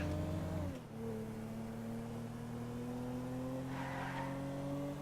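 In the GTA 5 video game, a car engine hums steadily after a quick gear drop, with a brief tire squeal about two thirds through, close and uninterrupted by voices.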